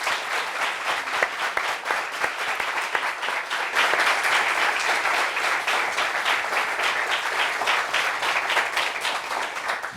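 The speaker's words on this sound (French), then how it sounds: "Applaudissements pour lui." An audience on a French-language studio discussion show applauds to welcome a guest, giving dense, steady clapping that stays loud and continuous for about ten seconds.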